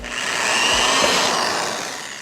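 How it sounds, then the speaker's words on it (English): A power drill drilling a bolt hole on a 2020 Subaru WRX whirs steadily for about two seconds, a close, continuous grinding buzz that swells slightly in the middle and tapers off. "I'm going to align the drill with the top part of this little bolt hole."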